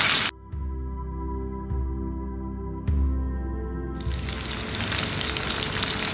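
Potatoes fry in hot oil for a North Indian thali, a steady close sizzle with a few soft clatters, swelling into a louder, denser bubbling hiss near the end.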